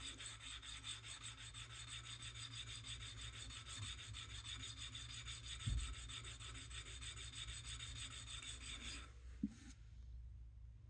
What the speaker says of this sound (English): just remove the surface of whatever this coating is and see what's left behind